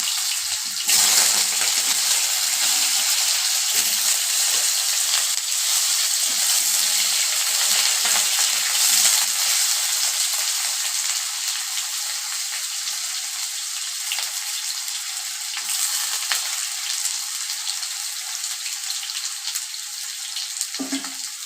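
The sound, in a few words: potatoes frying in a pan with turmeric and salt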